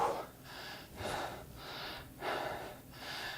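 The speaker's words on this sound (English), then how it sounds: "I'm still panting." Heavy breathing right after a bo staff combinations workout class: three or four loud, rhythmic gasping exhales and inhales, close to the mic, with no talking.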